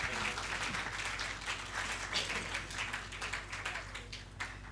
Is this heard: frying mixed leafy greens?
no